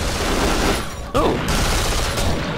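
Friendly gunfire in the Duke Nukem Forever game, a dense rattling burst of shots over a constant rumbling din, with a brief dip and then renewed firing.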